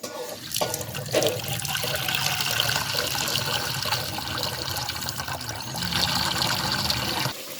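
Water poured into a mustard hilsa fish curry cooking in a pan, a steady rushing splash and sizzle lasting several seconds at close range, cutting off abruptly near the end, with no talk.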